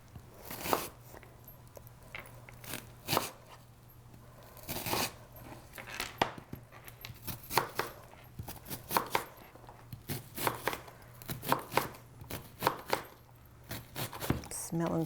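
A knife chopping half a white onion on a cutting board, quiet irregular knocks in quick clusters and pauses, close and alone.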